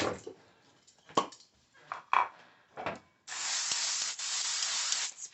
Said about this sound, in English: Spray a little non-stick in there.